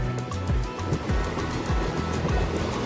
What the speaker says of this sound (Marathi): समुद्र जाम खवाळला